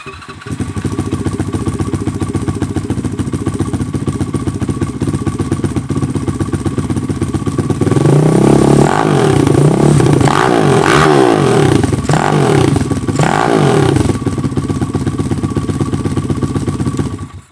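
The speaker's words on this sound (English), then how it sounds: "This thing's already been started, so it's warmed up, so it should just fire right off." A warmed-up GY6-style minibike engine runs with a steady, buzzing idle, then revs up in several surging bursts in the middle before settling back to a rattly idle, loud and close.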